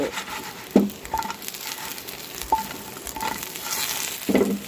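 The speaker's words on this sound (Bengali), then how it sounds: "কাঁচা কলা ভাজা হয়ে গেছে চুলা বন্ধ করে দিলাম" Continuous sizzling of green banana frying in a pan, with intermittent scraping and clinking of a spatula stirring.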